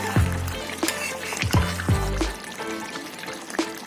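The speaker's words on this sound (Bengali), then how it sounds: "এবার গ্রিন পেস্টটা দিয়ে দিলাম।" Green paste goes into a pot of partly boiled chicken, giving several wet plops and splatters followed by soft liquid sloshing and bubbling at close range.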